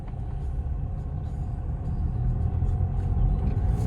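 Mercedes CLA200D diesel sedan on the move, heard from inside as a steady low engine and road rumble with a faint higher drone, even in level and continuous, no talking.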